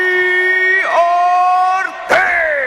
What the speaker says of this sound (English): You hear his crowd making some noise.